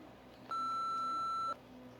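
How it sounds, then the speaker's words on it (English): A single steady voicemail beep marks the start of recording, a clean electronic tone lasting about one second over a quiet background, with no voices. "Please leave a message after the tone."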